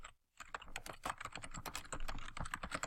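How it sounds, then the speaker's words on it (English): Rapid typing on a computer keyboard, close and moderately loud, a brisk run of clicking keystrokes after a brief pause at the start. "I'm going to type in"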